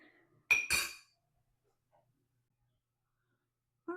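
Two quick clinks of a utensil against a bowl as dry baking ingredients with baking powder and salt are gently mixed, close and brief, followed by quiet and a faint knock at the end.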